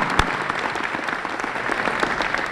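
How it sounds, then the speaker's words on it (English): Sustained, dense applause from an indoor audience at a holiday charity gala honoring the caterers, steady and continuous throughout with no talking over it. "Let's give them a big round of applause for the great food that they brought for us tonight."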